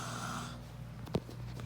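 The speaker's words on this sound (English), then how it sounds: "All these people snoring is annoying." People snoring in a hotel room, a raspy drawn-out snore fading out, followed by a sharp snort and soft breathy sounds close by.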